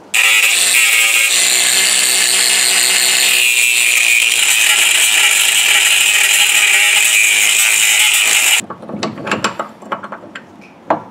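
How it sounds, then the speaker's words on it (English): A power grinder works down a steel spindle on a third-generation Camaro, a loud continuous high-pitched grinding whine held steadily for several seconds before cutting off into scattered metallic scrapes and clatter. "gotta grind the spindle all over here to clear this"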